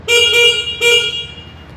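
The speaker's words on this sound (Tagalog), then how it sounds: "Pakinggan natin yung kanyang horn." Two short horn beeps from a QJ Motor AX 180 motorcycle followed by a longer one, bright and close, with a faint hum underneath.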